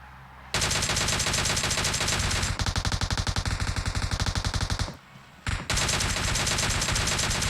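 Sustained automatic fire from a DP-28 light machine gun in PUBG Mobile, loud and close, in long unbroken bursts with a brief pause before shooting resumes.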